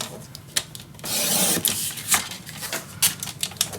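Patterned craft paper from an 8x8 Stamperia paper pack being cut down to 4 inches for a mini album, with sharp snips and a long rasping slide of the blade through the sheet, close and fairly quiet.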